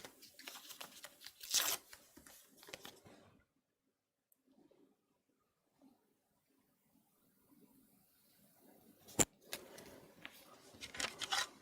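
Paper tree shapes are cut out with scissors during paper crafting and card making: a few seconds of snipping and rustling paper, a quiet pause, then more close cutting and crinkling at the end.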